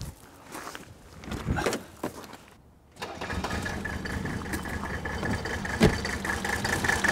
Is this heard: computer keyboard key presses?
no